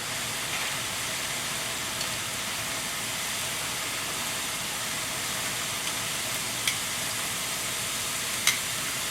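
Fried wonton chips for cheese crab rangoon sizzle steadily in hot frying oil, a loud, dense, continuous crackle with a few sharper pops, heard alone without talk.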